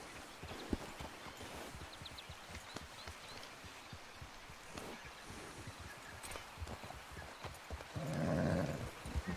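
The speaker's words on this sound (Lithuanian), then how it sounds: "Arklys pabėgo." Hooves of a horse in a video game clatter as it gallops away, a quiet, rapid rhythmic clip-clop running through the whole stretch.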